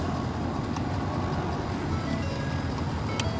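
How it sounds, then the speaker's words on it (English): A parked truck idles after an automatic start, a steady low engine rumble heard from close by and unchanging throughout, with no talk. "this thing auto started while I was in there, and she's just been out here idling and hanging out."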